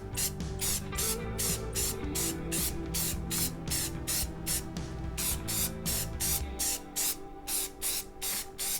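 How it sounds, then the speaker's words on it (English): Spray paint primer goes onto switch plates in rapid, evenly spaced hissing bursts, loud and close, with a steady low hum beneath. "I'm going to be spraying from left to right to ensure even coverage across the plates."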